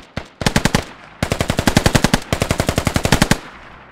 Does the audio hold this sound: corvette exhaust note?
no